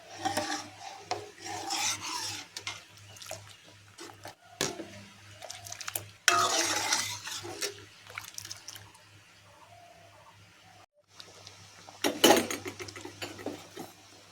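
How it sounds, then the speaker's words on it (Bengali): A spoon scrapes and rubs through lentil dal in a pan as fried bitter gourd and drumsticks are stirred in: quiet, intermittent rasping strokes with brief gaps and a low steady hum behind. "উচ্ছে দিয়ে আবার একটু নাড়াচাড়া করে দেবো"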